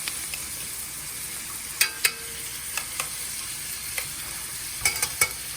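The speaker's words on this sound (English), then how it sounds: "So over here I have my butter going from my brown butter bites." Butter browning in a pan for brown butter bites, a steady faint sizzle with a few sharp clinks and scrapes of stirring scattered through, no voices.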